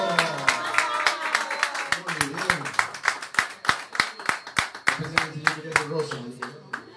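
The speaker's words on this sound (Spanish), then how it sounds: "Un aplauso más para nuestro gran amigo" An audience claps after a tribute singer's cover of a song, sharp distinct handclaps in a fairly quick steady rhythm, close and loud, with other voices and background sound beneath.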